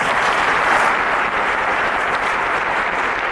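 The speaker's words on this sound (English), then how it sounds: "A round of applause for them, guys." Quiz show contestants get a loud, steady wash of applause from a studio audience that fills the whole moment, dense and continuous with no voices on top.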